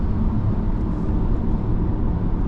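A BYD Dolphin electric car accelerates on the Genting mountain road, heard from inside as a dense, steady rush of road and wind noise with a low rumble, constant and fairly loud, with no voices.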